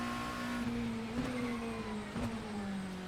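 A McLaren 720S GT3 Evo race car engine in a modded racing sim holds a steady, close droning tone that slowly sinks in pitch as it eases off, heard alone without talk.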